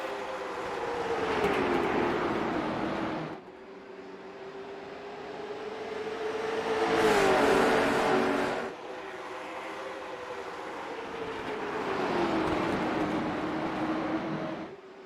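Race cars battle side by side on a track, their engines droning past in three long swells that rise and fade as they pass, loud and continuous with no voices.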